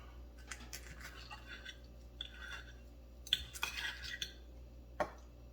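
Knife and fork cutting into air-fried chicken quarters: faint, scattered scrapes and clicks of cutlery on a plate, with a few sharper taps near the end.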